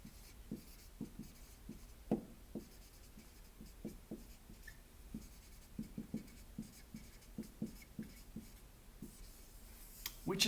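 Soft, faint scratching of writing during a calculus lesson: a steady run of short strokes with brief pauses between words.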